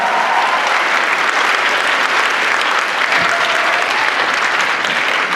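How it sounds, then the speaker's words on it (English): Sustained, loud applause and crowd noise from an audience at the Supanova Perth 2015 cosplay contest, a continuous roar of clapping for contestants on stage. "Give them a round of applause, ladies and gentlemen."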